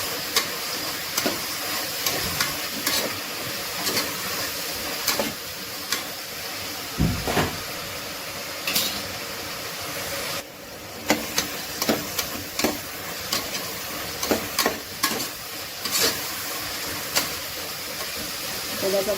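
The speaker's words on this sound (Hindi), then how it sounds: "तो बस अब प्याज अच्छे से फ्राई हो जाए" Onions and green chillies fry in oil in a pan for mutton salan, a steady sizzle running throughout with stirring clatters and occasional utensil knocks close by.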